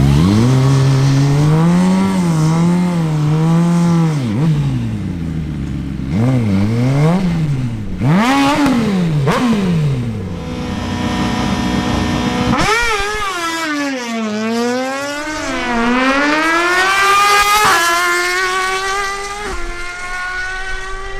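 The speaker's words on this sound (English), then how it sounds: "Now, Dan Monsalve, on his Suzuki GSX-R1000, steps up for a new run." Suzuki GSX-R1000 motorcycle on a drag strip revving hard and blasting through rapid upshifts, its engine pitch repeatedly climbing and dropping, then a second loud run-up with sawtooth gear changes, close and loud throughout.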